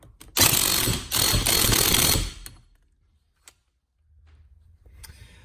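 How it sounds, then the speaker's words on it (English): A socket wrench on a Fiat 500 Abarth steering wheel hub gives a loud, rapid mechanical rattle for about two seconds, then quiet with a single click and faint handling. "you're just gonna take your 15/16 socket and secure it back on"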